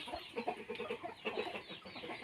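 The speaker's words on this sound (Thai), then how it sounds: "ไก่ตัวผู้ ไก่ตัวเมีย นี่เพาะสำหรับไก่ชนนะคะ" Fighting cocks and hens bred for cockfighting cluck in a backyard coop, a busy run of short, close clucks and chatter with no talking.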